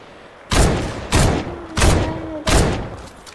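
Four heavy gunshots in Fortnite mobile, evenly spaced about two-thirds of a second apart, loud and booming with a ringing tail, no talking over them.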